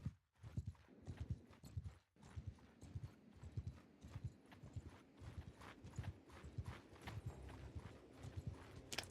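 Horses trotting in a medieval battle video game, a steady run of many hoof clip-clops with an occasional whinny over busy in-game battle ambience.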